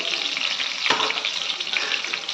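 Green chili, peppercorns and curry leaves frying in hot oil for tomato khichdi, a steady bright sizzle with one brief stir-like burst in the middle, close and continuous.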